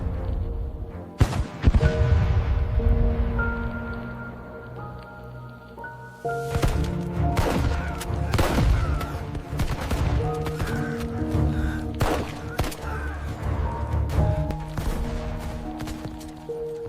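Gunfire crackles through an AI-generated movie battle scene, with sharp shots and rapid bursts cracking over a sustained tonal music bed, some blasts loud and close, others quicker and lighter.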